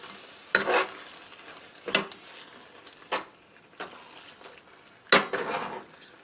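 Shredded cheese is stirred into skillet chicken enchiladas: a handful of distinct, close stirring strokes scrape and squelch at uneven intervals over a faint, low sizzle, with no talking.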